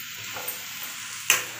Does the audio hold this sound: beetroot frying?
yes